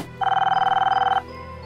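A telephone rings in one continuous electronic burst of rapid, pulsing trills lasting about a second, fairly loud and close against a quiet indoor background, with no talk over it.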